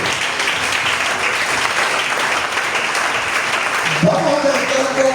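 Congregation applauding in a church, steady dense clapping throughout, with a voice and sustained tone entering near the end.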